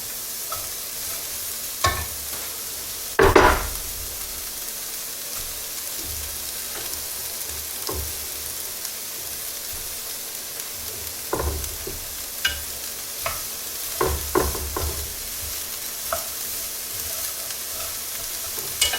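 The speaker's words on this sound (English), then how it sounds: "I'm going to stir fry this for a minute or so" Carrots, jalapeno and green onions stir-fried in a pan, with a soft steady sizzle broken by several scraping stirs and clatters, one louder burst early on, and no talking.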